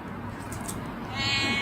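A cat meows several times up close, with drawn-out, slightly raspy cries that rise in pitch and loudness toward the end.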